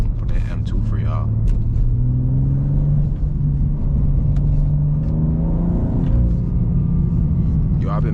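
Manual BMW M2 cruising in the morning, its engine a steady, loud low drone with gentle rises and falls in pitch as speed shifts, continuous throughout with faint road noise.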